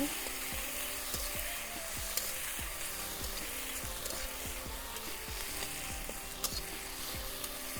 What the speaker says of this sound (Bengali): আমি পেঁয়াজ বাটা দিয়ে দিচ্ছি